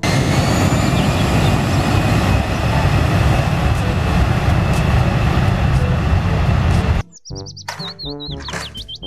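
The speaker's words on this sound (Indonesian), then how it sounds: "Pesawat terbang." Fixed-wing airplane engine roaring loudly and steadily for about seven seconds, then cutting off abruptly as high chirpy tones take over.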